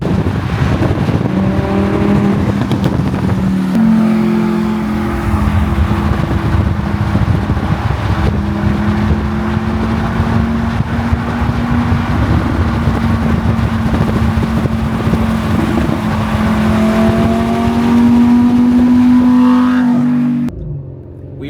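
Cars rolling in slow traffic on a highway cruise to a car meet, a Toyota Supra ahead and a Jetta GLI behind; a steady loud engine drone and road rumble with a rising rev near the end, heavy wind buffeting throughout, no talking.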